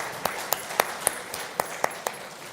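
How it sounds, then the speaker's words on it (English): Scattered handclaps from an audience closing a session on careers in AI, policy and digital governance, about eight sharp, separate claps spaced unevenly over a quiet room tone rather than a full ovation. "I want you all to give a bigger round of applause for yourselves"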